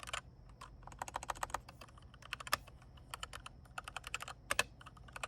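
Steady typing on a Keychron V8 mechanical keyboard, close and clear, with bursts of rapid clacky keystrokes separated by short pauses, and no talking.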